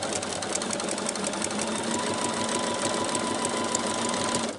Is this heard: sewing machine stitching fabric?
yes